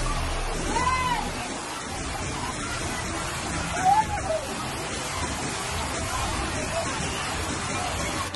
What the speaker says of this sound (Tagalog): Unti-unti na rin lumalakas at tumataas ang agos ng tubig